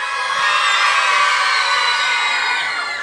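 A large crowd of children cheers and shouts together at a local broadcast event, a loud, steady, high-pitched roar that holds for the full three seconds.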